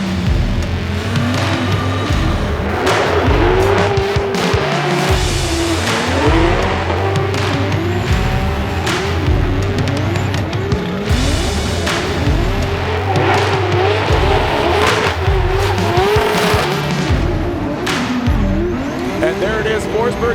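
Formula Drift competition cars sliding through a run, with continuous loud tire squeal and screaming, revving engines that rise and fall throughout, joined by a commentator talking over the action.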